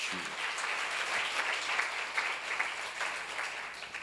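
A church congregation claps steadily for about four seconds, a dense, even wash of many hands at moderate level with no break, heard in a Korean church seminar hall.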